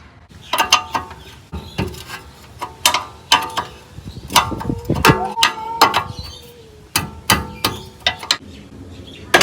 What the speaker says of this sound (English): Hit my radiator with the bloody spanner.